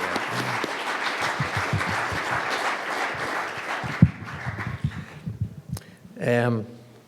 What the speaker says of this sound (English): we should give him a special round of applause